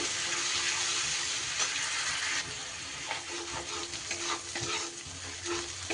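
Ginger and green chili paste sizzles steadily in a hot pan while being stirred, a dense close hiss with soft scraping strokes from the spoon throughout.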